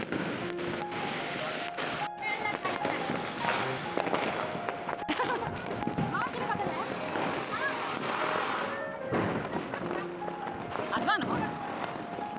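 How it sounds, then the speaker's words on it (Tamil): Firecrackers bursting in the dark during a celebration in Chennai, heard as a dense, continuous crackle of pops and bangs near and far, with voices of people talking and calling underneath. "அந்த பட்டாசுலாம் வெடிக்கிறது பார்க்கும்போது இருட்டில் ரொம்பவே சூப்பராக இருந்துச்சு அன்றைக்கி"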